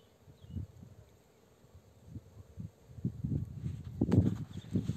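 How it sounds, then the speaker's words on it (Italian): Bees buzz inside a flowering cherry tree, heard close up as a soft, uneven hum with rustling that grows louder toward the end. "così prendiamo proprio e sentire il suono delle api qua dentro"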